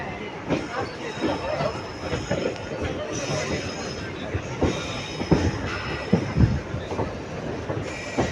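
A train pulls into Nagapattinam station with rumbling carriages, clattering wheels over rail joints and occasional squeals, fairly close, while someone talks over it.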